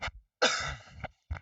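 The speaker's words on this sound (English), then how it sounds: "My apologies for the cough." A few close coughs in quick succession, a short one, a longer rasping cough, then another brief cough, with no talking.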